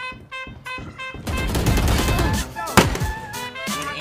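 Rapid gunfire bursts from the tactical shooter game Valorant, a dense volley of shots that crackles loudly over game music and effects, with one sharp, louder report standing out near the end.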